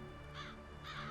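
Crows give two harsh, raspy caws about half a second apart, fairly distant over a low steady background hum.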